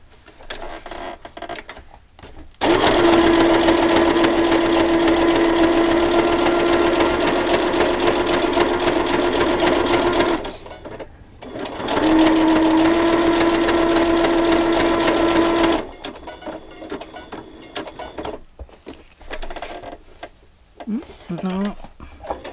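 A sewing machine stitches the pages of a ring-bound December Daily album in two steady, loud runs with a short stop between them, then goes quiet as faint handling noises follow.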